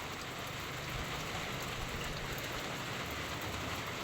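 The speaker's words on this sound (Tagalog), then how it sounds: "kanina pa itong ulan guys, hindi pa humihinto" Steady heavy rain falls in a constant, dense hiss, with no pauses or voices.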